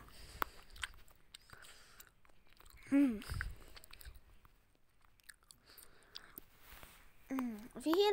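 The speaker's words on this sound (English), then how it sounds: "that sound, that's me chewing on gum" Gum being chewed close to the mic during a Boxel Rebound gaming session, with soft wet smacking and clicking bursts scattered through a quiet background and a couple of louder mouth noises.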